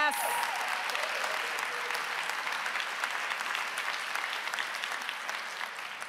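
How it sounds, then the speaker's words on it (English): Steady applause from a conference audience at a tech awards ceremony in a convention hall, sustained and dense across the whole stretch without any speech. "let's give them another round of applause"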